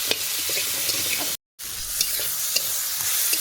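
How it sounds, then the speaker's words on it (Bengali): Vegetable stalks sizzle and crackle in a hot pan as they are stirred with turmeric and salt, a steady close frying hiss broken by scraping stirs and one brief silent gap. "দিয়ে ভালো করে নাড়াচাড়া দেবো।"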